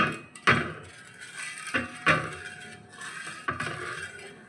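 Beetroot halwa mixture with sugar stirred in a pan, a spoon knocking and clinking against the metal in a few distinct strikes with softer scraping between, close and unaccompanied by talk.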